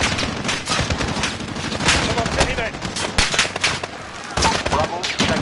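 Rapid bursts of automatic gunfire rattle on in a military video game, dense and loud, with a voice speaking over the shooting.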